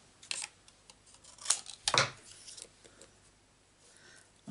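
Scissors snip paper for a handmade card, a few sharp isolated cuts close up, the loudest pair clustered near the middle, in an otherwise quiet room.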